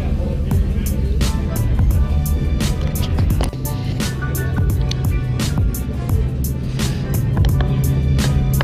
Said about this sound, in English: It's a Corolla, but it has an S2000 motor in it.